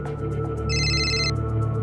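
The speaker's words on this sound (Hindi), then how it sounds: "सर मिश्रा जी का फोन।" A telephone rings once, a short bright electronic trill over a low steady hum in an indoor room.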